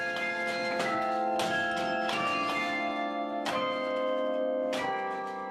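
Carillon bells rung in Savoie, a series of bright struck bell notes at an unhurried, irregular pace, each strike ringing on with long overlapping resonance, heard alone at a moderate distance.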